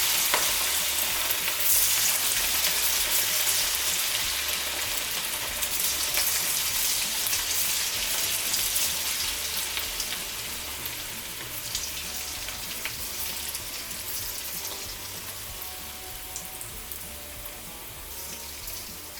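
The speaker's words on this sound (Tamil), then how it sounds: "இப்போ எண்ணெய் காஞ்சிடுச்சு. சில்லி போட்டு எடுத்துக்கலாம்." Battered cauliflower pieces for hotel-style chilli cauliflower deep-frying in hot oil, a dense, steady crackling sizzle close by that runs for the whole stretch and eases slightly toward the end, with occasional stirring and no talk.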